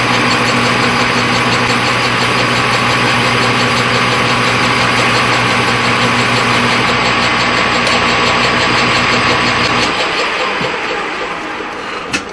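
A lathe boring the inside of a shop-made part on finishing passes drones loudly and steadily with a constant whine and hum, then the cut stops and the machine winds down over the last couple of seconds.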